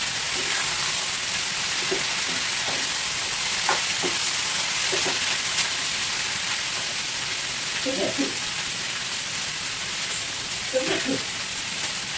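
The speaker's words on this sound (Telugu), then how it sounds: "ఈ గుడ్లోకి ఇలా వేయించుకోండి." Egg frying in a pan with broad beans, a steady bright sizzle throughout with occasional faint stirring clicks and scrapes.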